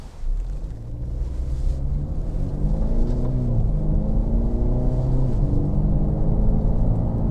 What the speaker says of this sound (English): I'm going to get the car up to about 50 miles an hour